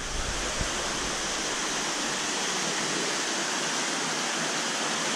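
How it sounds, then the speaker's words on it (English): Water from pumps rushes steadily through an aqueduct beside a large outdoor tank, a dense, unbroken roar that stays close and loud for the full stretch with no pauses. "the water that's running from the pumps"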